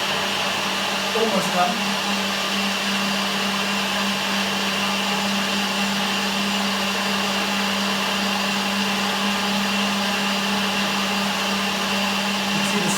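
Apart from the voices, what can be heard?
blender mixing banana almond butter protein smoothie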